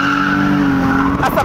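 Tires on a drift car squeal loudly and continuously as it skids around a circuit, with the engine roaring close by throughout the short burst.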